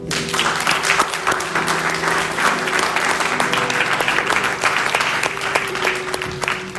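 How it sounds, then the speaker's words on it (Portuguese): A church congregation at a Sunday service bursts into loud, sustained applause, a dense and steady wash of many hands clapping that carries on throughout, with a faint tonal hum beneath it. "Você pode ficar de pé, vamos aplaudir o Senhor."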